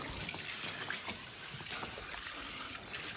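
Water poured and splashing while washing a sacrificial animal, a steady close trickle and splash throughout with no talk.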